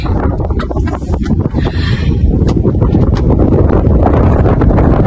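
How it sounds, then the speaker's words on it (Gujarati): Strong wind buffets the microphone on Girnar mountain in loud, continuous low rumbling gusts with no one speaking. "મસ્ત પવન આવે છે"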